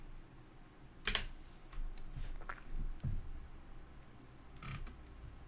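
Scattered keyboard typing in a few quick bursts, clicks close and clear over a low background hum, with pauses between the keystroke clusters.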